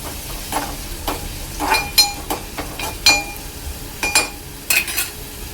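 Chopped onion sautés in oil in a pan, with a faint sizzle under a string of metal spoon clinks and scrapes against the vessel as it is stirred, spaced irregularly.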